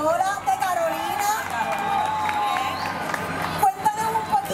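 A crowd at the San Sebastián street festival in Old San Juan claps, cheers and chatters continuously, with whistles and music-like tones over it and a short burst of louder noise near the end.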